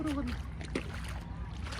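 Someone in fishing waders steps into water with soft sloshing and splashing, close and fairly quiet, while someone talks over it.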